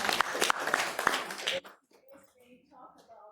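A council meeting audience claps in a short burst of sharp individual claps for about a second and a half, then it stops abruptly and quieter talk follows.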